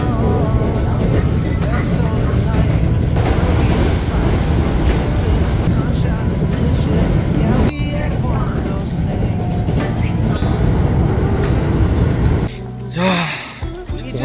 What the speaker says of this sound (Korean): 이제 이것도 마지막 지하철이네요.